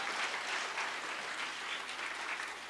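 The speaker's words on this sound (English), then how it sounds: "Let's just give her another round of applause" An audience applauding at a classical dance arangetram, a steady wash of clapping from many hands at moderate distance, fairly quiet and even throughout with no talk over it.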